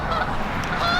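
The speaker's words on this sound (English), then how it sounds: "Oh my God, geese." Geese honking outdoors on a cold, frosty Chicago day, a steady chorus of overlapping honks that carries loud and continuous through the whole moment with no talk over it.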